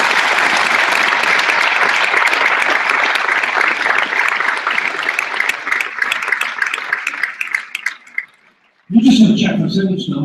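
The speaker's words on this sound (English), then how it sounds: "I want a big round of applause to the wonderful Elizabeth Wandel." At an autism talent show, a big round of applause for performer Elizabeth Wandel rises loud and sustained from the audience. It thins out and stops briefly near the end before a different burst of sound.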